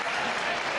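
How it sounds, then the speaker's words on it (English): Crowd at a bowling world cup giving a round of applause, a brief, steady wash of clapping heard from a distance. "there's a round of applause for the serviceman."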